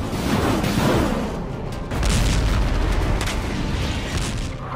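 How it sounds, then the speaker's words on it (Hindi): Artillery fire targets a house sheltering soldiers in Bakhmut during the Russia-Ukraine war: heavy rumbling booms and crackling blasts roll on continuously, with a fresh loud surge midway through. "एक घर में छिपे रूसी सैनिकों पर यूक्रेन ने आर्टिलरी फायर किया"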